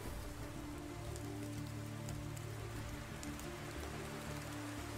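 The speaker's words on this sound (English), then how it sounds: "the rain is coming down heavier." Steady rain pattering on a surface, a dense even hiss with scattered drops, fairly soft and continuous with no voices.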